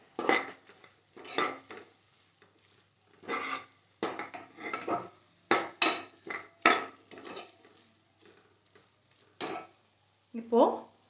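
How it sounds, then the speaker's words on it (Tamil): Spoon scraping and stirring sambar powder in an oily pan in short, irregular bursts, with a light sizzle of frying underneath. "இந்த சாம்பார் பொடியோட பச்சை வாடை போகிற வரைக்கும் நல்லா எண்ணெயில் வதக்கிக்கலாம் சேர்த்து."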